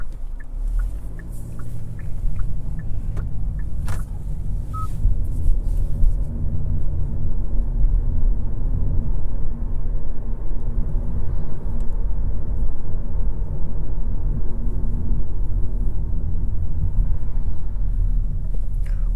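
A 2024 Hyundai Elantra Limited drives on a main road, heard from inside as a steady low engine and road rumble with tire noise, continuous and fairly loud, with no talking.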